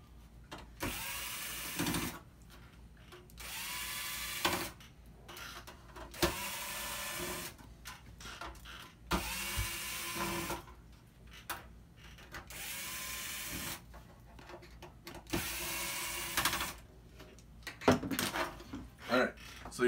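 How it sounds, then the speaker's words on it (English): An electric screwdriver whirs in repeated short bursts, backing out the screws around the outer cover of an A7K ozone unit, each burst close and separated by pauses with quiet handling. "it's time to go ahead and remove those"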